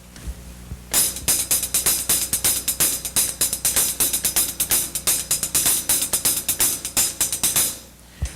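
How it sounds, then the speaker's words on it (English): A paradiddle pattern on a hi-hat gives crisp, rapid ticking strokes with regular accents, close and clear, running for several seconds after a brief quiet start, with no voices. "I'll play it on the hi-hat."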